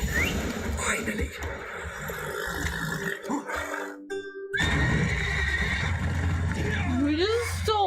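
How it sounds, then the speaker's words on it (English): Horses neighing and whinnying in the Witcher 3 video game during a horse-stealing scene, several loud whinnies with a rising squeal near the end, mixed with background game sounds and people talking over them. "Gotta calm all the horses before they wake the guards."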